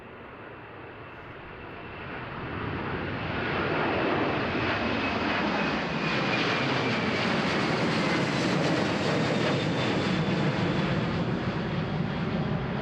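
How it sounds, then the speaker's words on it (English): Saudi Airbus A330-200 freighter jet bound for Jeddah, heard as a broad engine roar that swells over the first few seconds and then holds loud and steady, with a rising whine running through it. "And now we got a Saudi A330-200 freighter going to Jeddah."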